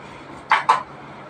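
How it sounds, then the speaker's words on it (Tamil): Two quick, close knife strikes cutting through a lemon against a board, each a short sharp chop in a quiet room. "ஃபர்ஸ்ட் குளிக் சர்பத்துக்கு லெமன் ஃபர்ஸ்ட் இப்படி கட் பண்ணிக்கணும்."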